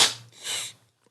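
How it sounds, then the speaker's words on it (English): A single sharp sneeze bursts out close to the mic, followed by a softer second exhale, then near silence. "I hate sneezing."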